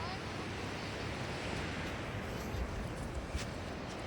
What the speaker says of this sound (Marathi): आता बघा तुम्हाला लाटांचा पण आवाज येत असेल की ते कसा येतोय ते